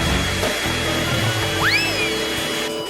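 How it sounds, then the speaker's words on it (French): A hair dryer blows with a steady, loud whooshing hum while food is being prepared in a kitchen. A brief squeaky whistle cuts through it near the end. "Ensuite, je prends le sèche-cheveux."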